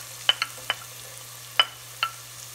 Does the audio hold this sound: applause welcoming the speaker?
no